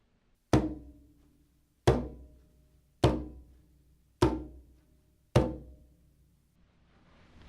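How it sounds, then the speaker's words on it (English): A conga is struck with relaxed open-hand bass tones in the center of the drum, five separate deep thuds spaced about a second apart, each ringing out and fading, close and fairly soft. "My hand hits in the center of the drum and it should be very relaxed."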